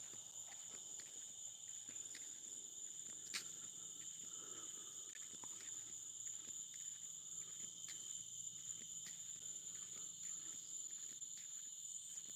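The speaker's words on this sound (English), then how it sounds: "I hear the crickets, the frogs, the cicadas" Steady, high-pitched cricket chirping fills a quiet night, continuous and moderately loud, with a few faint knocks and rustles underneath.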